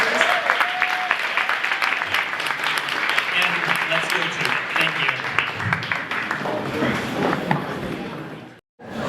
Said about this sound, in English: let's give a big round of applause to all of our facilitators